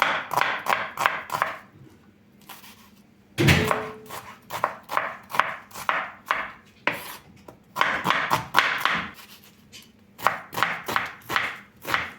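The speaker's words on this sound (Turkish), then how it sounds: "Doğrayıp pişireceğim." Rapid knife chops on a cutting board in quick bursts of rhythmic taps, close and crisp, with short pauses between runs.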